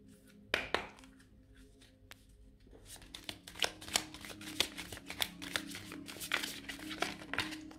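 Oracle cards for a love reading being shuffled by hand, a quiet run of close, rapid papery riffles and soft slaps that grows busier after a few scattered taps, with no talk.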